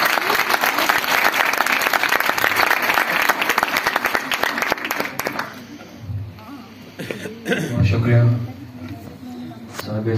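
Enthusiastic audience applause welcoming poet Umair Najmi at a poetry gathering, loud and dense for about five seconds, then thinning into scattered claps and crowd murmur.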